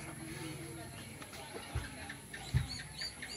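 A black Melsim Black hen clucks a few short low notes amid farmyard background noise, with soft voices nearby.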